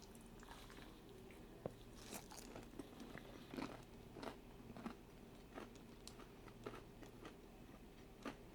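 Quiet crunchy bites and chewing of a Popeyes chicken wrap with McDonald's fries, several soft crackling bursts spread over steady low background hum, no talking.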